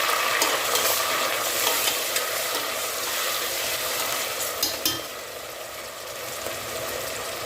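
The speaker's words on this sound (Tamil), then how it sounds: "அந்த பக்கம் வெங்காயம் வறுபடட்டுங்க" Onion and ginger frying in a pan for rava kichadi, a constant close-up sizzle with occasional clicks and scrapes of stirring throughout.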